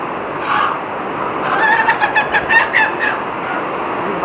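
Chickens and chicks cluck and squawk in a short burst of calls near the middle, over a steady background hiss.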